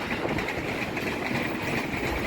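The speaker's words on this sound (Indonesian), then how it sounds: "Nah ini ada lagi kereta nih lewat nih." A commuter train passes beside a street in Citayam, Indonesia, with a loud, continuous rumble and rail clatter that stays steady and close throughout.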